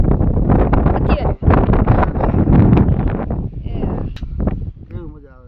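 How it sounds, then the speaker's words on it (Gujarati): A strong, cool wind sweeps across a farm with guava trees, rumbling and buffeting the microphone in gusts beneath a person talking. "જો મિત્રો આમ જો કેટલો પવન છે."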